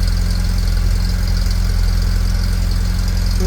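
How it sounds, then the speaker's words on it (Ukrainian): A car engine idles steadily nearby after starting from a month of sitting unused, a low even rumble with a fast regular pulse and no change in pitch. "Все, як бачите, все завелося, все працює, машинка огонь."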